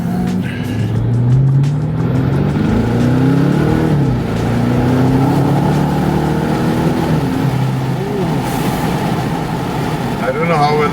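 A BMW 650 with a VRSF sports exhaust accelerating in sport mode, a loud, deep engine note that climbs in pitch through gear changes and downshifts, heard close from inside with the windows partly open.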